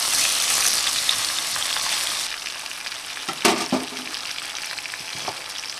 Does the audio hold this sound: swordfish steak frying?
yes